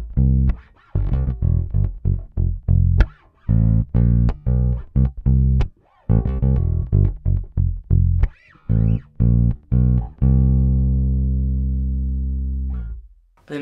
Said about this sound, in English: this is just the P pickup on its own